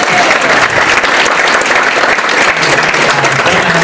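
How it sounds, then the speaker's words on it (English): A steady, loud round of audience applause at a school alumni-of-distinction awards ceremony, dense continuous clapping from a crowd throughout. "Can we give her a round of applause?"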